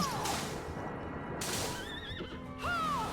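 A horse whinnies loudly a few times over a steady background of ambience in Bloodstained: Ritual of the Night, with a faint hoof clatter.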